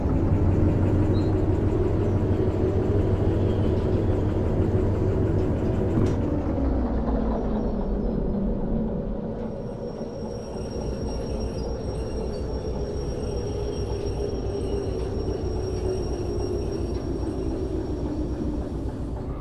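A locomotive in Derail Valley rumbles steadily as it gets under way, with continuous engine drone and rolling rail clatter; a faint high whine and hiss enter midway, and the sound stays loud and close throughout.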